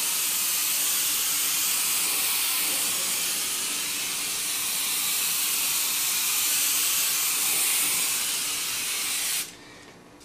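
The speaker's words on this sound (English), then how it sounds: "when you're basically atomizing and spraying paint, you're spraying dust" An airbrush atomizes and sprays paint for a faux marble finish, making a steady, close, broadband hiss that runs continuously for about nine seconds before cutting off abruptly.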